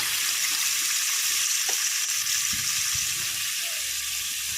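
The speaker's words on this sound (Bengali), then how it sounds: "তো পনিরগুলো খুব সাবধানে কড়াইতে ছেড়ে দিচ্ছি" Paneer pieces fry in oil in a wok, giving a steady bright sizzle throughout with a few soft clinks and knocks, and no talking.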